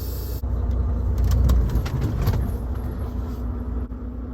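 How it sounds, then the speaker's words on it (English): A semi truck creeps forward about a foot, its engine rumbling low and steady close by, swelling briefly then settling, with a light rattle on top and no talking. "all I did was pull forward about a foot"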